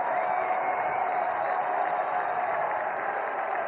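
A college baseball stadium crowd at a Clemson versus Wake Forest game applauds and cheers in a steady, sustained roar of clapping that fills the whole stretch without letup.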